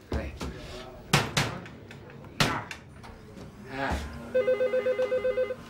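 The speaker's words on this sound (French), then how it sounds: "téléphone." A telephone rings in an office at a police judiciary station, a run of rapid electronic ring pulses close by near the end, after several sharp knocks and bumps with brief voices.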